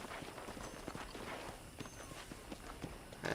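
Horse hooves clip-clop at a steady walking pace in Red Dead Redemption 2, a run of close, even hoofbeats on the ground with faint game ambience behind and no talk.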